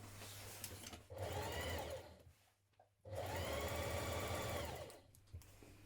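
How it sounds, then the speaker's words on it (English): A sewing machine stitches the side seams of a McCall's 7946 summer dress with a long stitch, running in two steady bursts of about a second and two seconds, separated by a short pause and near in the foreground. "Let's stitch those side seams first of all."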